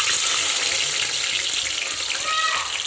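Hot cooking oil sizzles loudly in a pan, a steady close-up crackling hiss that runs without pause for the whole stretch.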